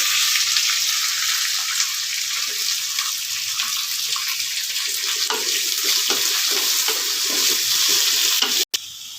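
Curry leaves and onions fry in a pan for fried rice, a loud, constant sizzle with stirring scrapes, ending in a brief cut near the close.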